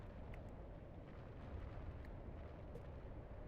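A meteor barrage in the Space Engineers survival game brings a continuous deep, rumbling roar of distant explosions, quiet and even throughout with no separate blasts standing out, and no talk.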